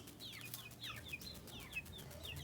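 Chickens and their chicks cluck and peep in a farmyard, with repeated high chirps arriving in quick irregular bursts over soft low clucking, close by and moderately loud, with no talking.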